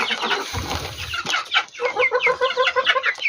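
Young chickens on a hillside farm cluck busily while pecking at fermented maize, a dense, close chorus of short rhythmic clucks that grows more regular toward the end.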